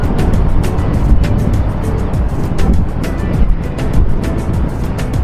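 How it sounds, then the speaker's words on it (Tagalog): Steady, dense rumble of road traffic in Taiwan, motorbikes sharing the streets with cars, holding at a constant moderate level with faint passing swells and no clear voices. "Grabe yung traffic dito, no?"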